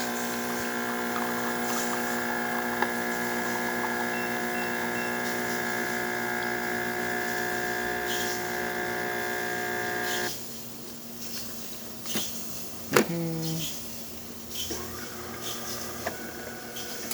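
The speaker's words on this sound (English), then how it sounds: "now we can have a nice shot of espresso coming out from the spout" DeLonghi Gran Dama espresso machine pouring a shot from the spout after a full service with new O-rings: a loud, steady pump hum and buzz that cuts off after about ten seconds, followed by quieter gurgles and clicks.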